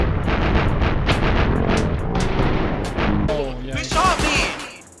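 Dense gunfire from an online raid in the video game Rust, a rapid stream of loud close shots and bursts, with players talking over the shooting.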